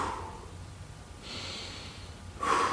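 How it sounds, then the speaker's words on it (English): Slow, deep breaths drawn in and let out, close and soft, in two long airy swells. "So let's take 2 deep breaths."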